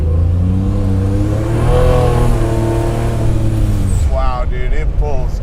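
A Buick Regal engine revs up hard under full acceleration, its loud rising drone climbing steadily in pitch for about four seconds before easing off as excited voices talk over it.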